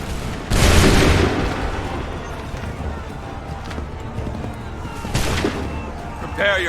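A volley of musket gunfire in Assassin's Creed 3 Remastered: two loud broad crashes of massed shots a few seconds apart, with battlefield noise and shouted commands in between.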